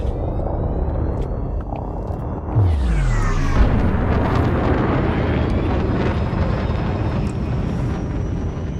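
A spaceship lifts off in the space game Elite Dangerous Odyssey, a deep sustained engine rumble swelling into a loud roar with rising whine and thrust hiss, heard without any talking.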